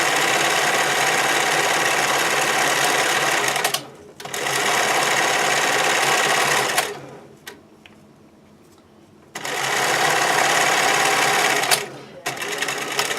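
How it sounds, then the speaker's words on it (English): A sewing machine runs in long fast bursts, stitching fold-over elastic stretched tight onto stretchy swimwear fabric, with brief pauses between runs and a quieter gap in the middle. "Pull and sew all the way to the end."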